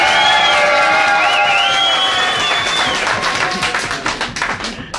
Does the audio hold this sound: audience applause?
yes